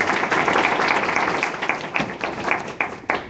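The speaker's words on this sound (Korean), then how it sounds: "우리 의원님께 다시 한번 박수로 감사의 말씀 감사합니다" Audience applause at a lecture in Silicon Valley, a dense crowd clapping that thins into scattered individual claps toward the end, with no talking.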